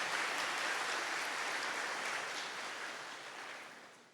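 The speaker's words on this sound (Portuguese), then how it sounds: "bem baixinho, aplauda o nosso Salvador, aplauda nosso Senhor Jesus Cristo" Soft, hushed applause from a church congregation during worship, a steady diffuse patter of many hands that stays even and gradually fades slightly.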